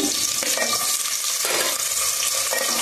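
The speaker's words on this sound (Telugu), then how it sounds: "ఉల్లిపాయలు, పచ్చిమిరపకాయలు బాగా నూనెలో వేయించుకొని బాగా ఎర్రగా వచ్చేదాకా అయితే వేయించుకున్నామండి." Onions and green chillies frying in oil for a gongura chicken curry, a steady close sizzle with a few scrape-like stirring pulses, no voices.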